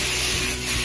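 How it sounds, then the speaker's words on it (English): Aussie hairspray sprays onto sections of long hair as a loud, close, continuous hiss lasting just under a second. "So today I am going to just use some Aussie hairspray"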